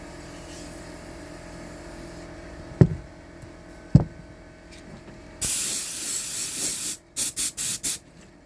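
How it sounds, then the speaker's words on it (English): An air compressor used during a duct install refills with a loud steady hiss that runs for about a second and a half, then gives several short bursts. Two sharp knocks come earlier over faint background noise. "Let my compressor catch up to me."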